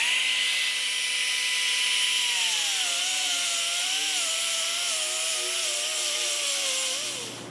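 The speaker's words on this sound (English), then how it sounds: "We have some blistering in the deck lid of the Nova, so we're going to grind through them to see what repairs are needed." A grinder cuts through blistered sheet metal on the deck lid of a Nova: a loud, continuous, high-pitched grinding whine held close up, its pitch dipping slightly partway through before it winds down at the end.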